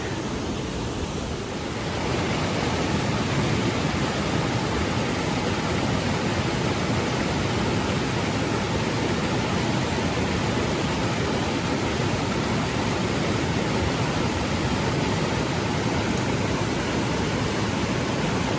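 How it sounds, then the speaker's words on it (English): Silty river flowing steadily along a trail on a long-distance hike, a dense, constant broadband rush that stays loud and even throughout, with no voices. "That's some silty river."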